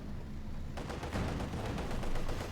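Company of Heroes 2 machine gun fire rattles in a steady stream of rapid, moderately loud bursts that kick in partway through over battlefield background noise.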